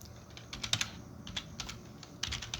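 Quiet clicking of keys as someone types on a computer keyboard, irregular bursts of taps with short pauses between them, close and soft.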